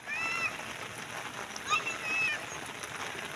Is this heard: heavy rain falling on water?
yes